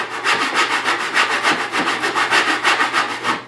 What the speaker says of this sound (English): I'm actually raising the handle and I'm sawing really with just the toe, plowing my way back